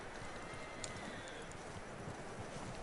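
Horse hooves clip-clopping in the Red Dead Redemption II video game, a soft, fairly faint steady rhythm of hoof falls under a quiet hiss.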